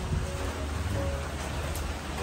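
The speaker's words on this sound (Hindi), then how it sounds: "यहाँ सुबह सवेरे भी बारिश हुई थी बहुत ज्यादा, अभी भी चल रहा है।" Steady rain falls on a village in Perak, Malaysia, after a heavy morning downpour, making a continuous, even patter and wash of drops with no breaks or voices.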